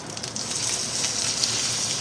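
Chicken laid in hot butter in a pan gives a steady, fairly soft hiss of sizzling frying that continues through the short stretch with no talk.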